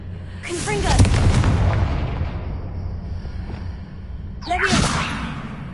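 Confringo fire spells cast in the video game Hogwarts Legacy: two bursts, each a whooshing crackle that swells into a heavy boom, set against a rumbling game background with some voice audible.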